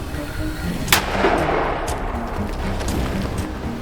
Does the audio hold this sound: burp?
no